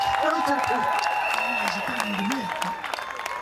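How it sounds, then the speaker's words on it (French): Applause at a customary Fang and Téké wedding ceremony, a steady wash of clapping lasting the whole moment, with voices and a singing or chanting voice audible over it. "Applaudissements."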